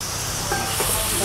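Onions sautéing with salt in a pan for goat boti, giving a steady, close, bright sizzling hiss that runs unbroken through the short moment.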